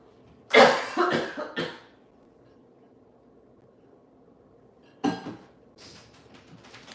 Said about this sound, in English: was sure I was not going to have a coughing fit on screen